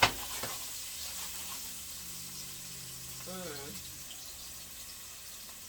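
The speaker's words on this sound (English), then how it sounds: "I'm gonna fry the peppers." Sweet peppers fry in a hot pan with a soft, steady sizzle, faint and continuous, with a brief clink of a utensil near the start.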